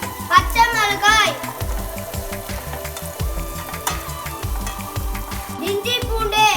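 Curry leaves and green chillies sizzling and crackling in hot oil in a home kitchen while a poori meal is prepared, with a steady frying hiss under a voice talking and background sounds.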